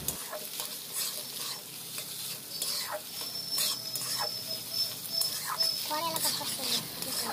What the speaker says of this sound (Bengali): এবার এই ভাতটাও এই তেলটার মধ্যে ভালো করে মিশিয়ে নিব।